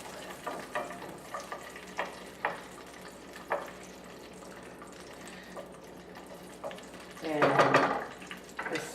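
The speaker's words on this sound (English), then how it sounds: "we're gonna saute garlic with the olives, and it's gonna be a little messy job here" Garlic and olives sauté in a pan with a low steady sizzle, broken by several sharp utensil scrapes and a louder, busier burst of frying near the end.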